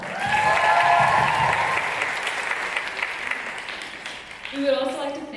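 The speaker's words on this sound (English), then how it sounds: "So one more round of applause for that." Audience applause at a dance championship theater event swells loudly at first and then tapers off, dense clapping with cheering and a voice speaking over the fading end.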